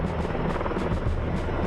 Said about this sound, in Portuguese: Junto com eles vieram os helicópteros com cestos de armazenamento de água.